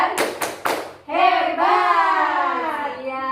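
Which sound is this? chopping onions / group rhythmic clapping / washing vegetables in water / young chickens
group rhythmic clapping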